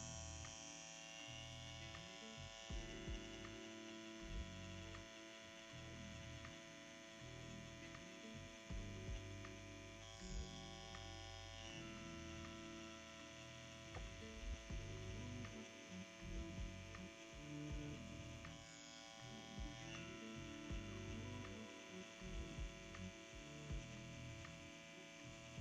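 A CPTInk Captain One tattoo machine running with a 9-round liner at 8.5 volts, giving a steady close electric buzz with a constant hum that wavers slightly as the needle works, heard alone.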